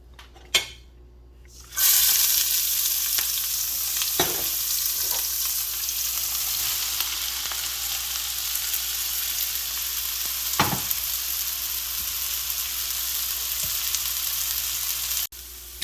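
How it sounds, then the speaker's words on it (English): Garlic, ginger, chilies and mushrooms brown in hot oil over medium-high heat for a vegan mapo tofu, giving a loud, steady close sizzle with a few scattered stirring clicks and no talk. "I'm gonna add my garlic, ginger, chilies, and mushrooms, and I just wanna brown everything nicely"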